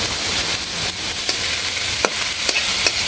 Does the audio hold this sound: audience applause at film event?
no